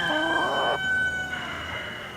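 Backyard chickens kept in a movable chicken tractor on a lawn, with a rooster crowing loudly and nearby in a drawn-out call that fades into quieter clucking.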